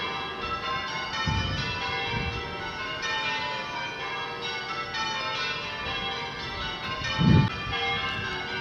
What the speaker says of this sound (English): A lovely peal of bells as we pass the church at Islip.